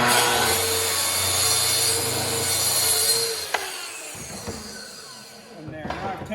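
Saw cutting through wooden planks for a wall art piece. A loud, steady buzzing cut runs for about three seconds and then stops, followed by a few light knocks and clatter as the wood settles.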